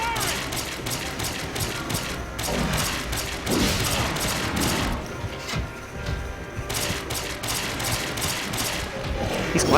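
Sustained gunfire in the Resident Evil: The Darkside Chronicles video game hammers at a big monster in rapid, repeated bursts. The firing is loud and near, with brief lulls between volleys.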